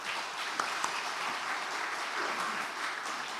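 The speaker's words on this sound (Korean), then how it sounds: "우리 박수 한번 칠까요?" A church congregation applauds during a joint Easter worship service, a steady wash of many hands clapping at once, evenly loud throughout with no voices.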